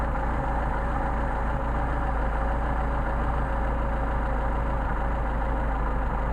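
Engine of a Mercedes 190SL with Solex carburetors idles steadily and close by while the idle mixture screw is adjusted, a low, even running hum with no clear stumble and no talking.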